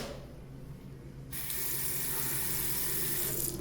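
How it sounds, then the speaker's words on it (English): Hands washed under a running sink tap in a Waffle House restroom, a steady hiss of flowing water that grows louder and brighter partway through as the flow strengthens, with no talking. "when you wash your hands like this"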